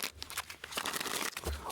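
Oracle cards being shuffled by hand, a quick run of papery crinkling and rustling riffles that carries on steadily for under two seconds, close up with no talking.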